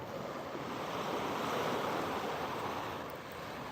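Steady rush of Black Sea waves breaking and washing at dawn, broadband and continuous, with some wind across the microphone; no voices.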